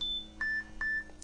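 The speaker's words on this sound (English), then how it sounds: "that's my alarm going off" An alarm, likely from a phone, beeps in a repeating pattern of short electronic tones, several bleeps in quick succession against a quiet room.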